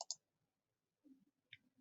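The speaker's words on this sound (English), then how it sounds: "when I'm typing the information into the table" A few quiet keyboard key clicks, a quick pair at the start and a couple more a second later, with near silence between.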